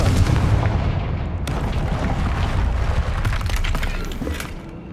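A Confringo blasting spell in Hogwarts Legacy goes off as a loud, booming explosion, followed by a sustained rumbling roar and crackling debris that gradually eases.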